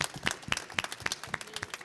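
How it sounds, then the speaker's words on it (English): A studio audience gives a guest a round of applause, a moderate, even patter of clapping from several people that holds steady for a couple of seconds without speech. "This man a round of applause."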